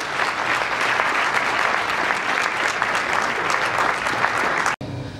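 Dense, steady audience applause at a live gospel event in a hotel, a loud continuous wash of many hands clapping that stops suddenly near the end.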